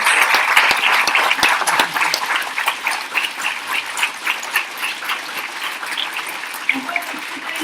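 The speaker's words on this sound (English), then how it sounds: "I think we should prefer a second round of applause for awesome performance." Audience applause fills a hall after a classical Indian dance recital (Arangetram) in Hong Kong, a dense, steady patter of many hands clapping that holds loud throughout with no talk over it.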